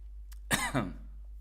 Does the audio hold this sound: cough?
yes